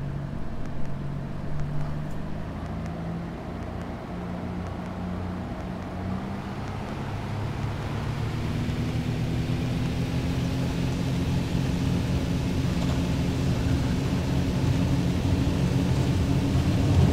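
A TB-10 Tobago's piston engine steadily climbs in pitch and loudness to takeoff throttle in X-Plane 11, a continuous droning hum that builds into a fuller roar by the end.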